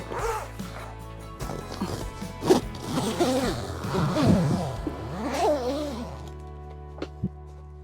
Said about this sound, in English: the last step is to zip up the door.